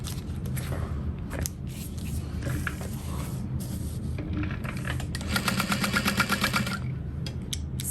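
A sewing machine stitching fabric for a crossbody bag at a long stitch length, whirring in steady bursts with a fast rhythmic clatter that grows denser near the end, close by and with no talking.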